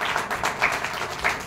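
A live audience at a short-film screening event claps together, a dense patter of overlapping hand claps holding steady with a few louder swells, close and fairly loud with no talking over it.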